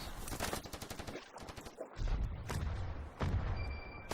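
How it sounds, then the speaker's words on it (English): Grenades explode amid rapid gunfire in a Standoff 2 match, dense bursts of shots followed by heavy low booms that overlap and echo, loud and continuous throughout. "Oh, so many nades."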